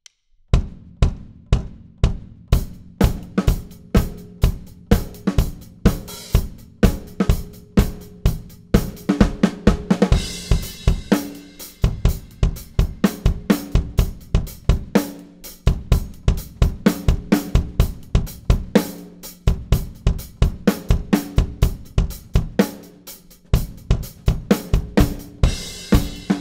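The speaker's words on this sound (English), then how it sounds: "Alright, that was the sound of the drum set acoustic." Acoustic Paladin Maple rock drum kit played up close in a steady groove, with punchy kick and snare hits and cymbals ringing over the beat throughout.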